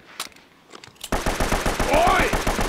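Machine-gun fire in the Uncharted video game: after a second of sparse, quieter sounds, a loud, sustained burst of rapid shots rattles on close up until the end, with a player's voice faintly present.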